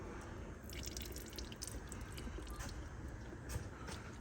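Engine oil draining from a 2022 Toyota RAV4 Prime during a 30,000-mile service, a faint steady trickle and patter of liquid with a few soft drips, and no voices.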